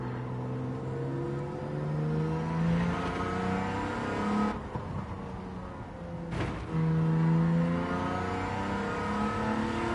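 An Aston Martin race car in a racing video game, its engine revving steadily through rising and falling gears with brief breaks at shifts, loud and continuous with no talk.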